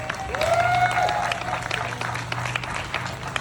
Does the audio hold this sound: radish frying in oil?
no